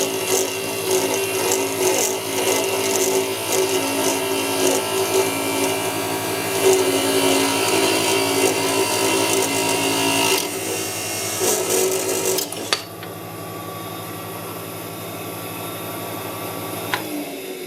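A wooden spinning top being parted off on a wood lathe, a steady whirring drone with scraping tool contact that runs continuously, then changes abruptly near the end as the cut finishes and the spinning continues more quietly.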